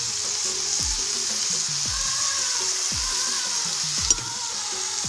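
Potatoes and long beans sizzle in a pan with tomato, a steady close frying hiss broken every second or so by low thumps of stirring, with no voices.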